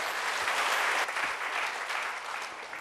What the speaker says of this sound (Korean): 자, 박수로 주님께 영광 돌립니다.